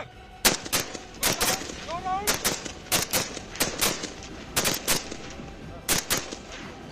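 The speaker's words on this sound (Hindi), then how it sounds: "100 metre, figure 11 target, single shot," Rifle gunfire from a BSF firing drill at 100 m figure-11 targets, a rapid series of sharp, loud shots in irregular clusters, close by, with brief voice fragments between them.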